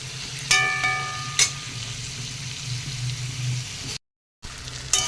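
Spices with turmeric and potatoes frying in a pan while Bengali eel curry is cooked: a steady low sizzle with a couple of sharp clatters of stirring, heard alone with no talk.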